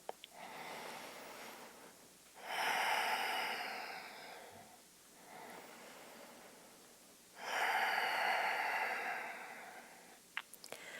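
Slow, deep yoga breathing sounds close and clear. There are two long, audible breaths, each lasting several seconds, separated by quieter pauses. No one speaks.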